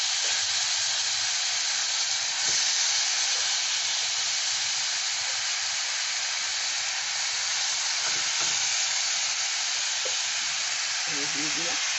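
Grated apple frying in a pan for apple kalakand sandesh, a steady loud sizzle and hiss running throughout with faint stirring scrapes near the end.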